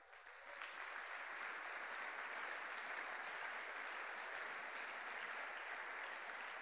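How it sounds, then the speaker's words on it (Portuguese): A church congregation breaks into steady applause after a moment of near quiet, the even clapping swelling quickly and holding at a moderate level without talk. "Pode aplaudir."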